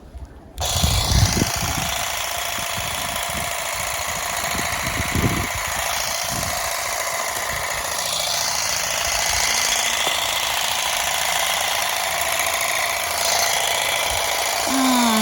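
Cordless garden grass shears trimming a dwarf yellow thuja shrub, a constant high motor buzz that starts abruptly and runs steadily for the full span, close to the listener, with faint low knocks early on.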